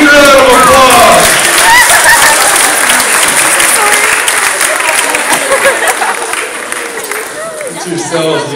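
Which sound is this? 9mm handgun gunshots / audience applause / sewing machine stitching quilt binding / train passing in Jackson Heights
audience applause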